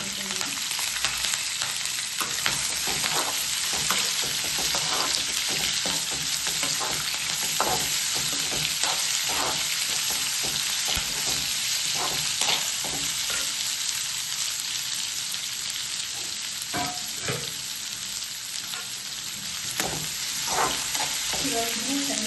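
Cut onions fry with curry leaves in a pan, a constant loud sizzle overlaid with repeated scraping and tapping of a stirring spoon, no voices.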